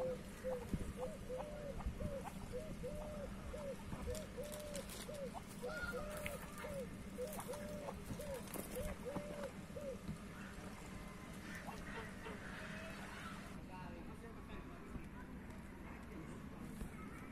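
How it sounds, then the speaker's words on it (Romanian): Ducks and small ducklings at a zoo pond quack in a long repeated series over steady outdoor background noise and crowd chatter, then fall quiet. "Nu puteam să trecem pe lângă rațe."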